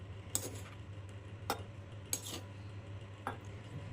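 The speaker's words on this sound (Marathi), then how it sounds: "हरभऱ्याची भाजी आहे ना ती कुटायची अशी करायची बारीक" Chickpea greens being pounded fine on a griddle produce four sharp, separate knocks spaced about a second apart over a low steady hum, close but fairly quiet, with no talk.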